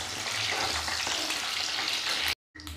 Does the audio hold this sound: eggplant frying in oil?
yes